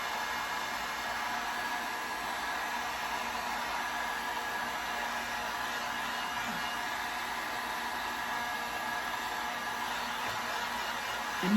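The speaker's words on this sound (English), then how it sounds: "I am going to hit it again with the heat gun to dry it." A heat gun blows hot air to dry a kitchen-themed decor craft, producing a constant, close whooshing drone with no change in pitch or level, heard alone without talk.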